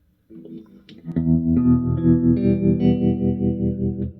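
An electric guitar chord played through a standard tremolo preset recalled on a pedal controlled by a Morningstar MC3. It rings out sustained and clear, with its volume gently pulsing.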